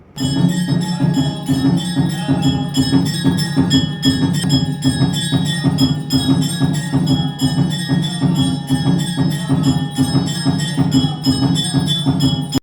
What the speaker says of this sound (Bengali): চলুন আপনাদের একটু আরতিটা দেখাই কিভাবে এখানে আরতি হয়